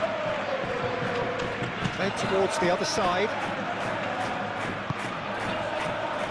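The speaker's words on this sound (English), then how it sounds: "The crowd are calling for this to be put to bed" A large football stadium crowd at a Champions League match between Real Madrid and Manchester City roars and murmurs as a continuous dense wash, with a commentator talking over it.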